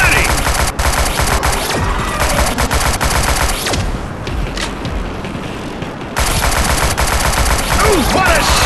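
Dense gunfire from the Shadowgun Legends shooter game, with rapid continuous bursts and heavy booms filling nearly the whole stretch, briefly easing in the middle before resuming at full loudness.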